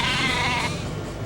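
Sheep bleating in the video game EverQuest II, a single wavering, nasal bleat lasting about a second, clear and close with a faint background hum.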